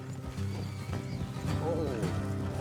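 Horses in Red Dead Redemption 2 clip-clop at a steady walk and one whinnies partway through, close and moderately loud under a low musical drone.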